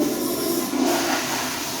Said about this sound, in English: I'm going to do a flush here to show you it's working.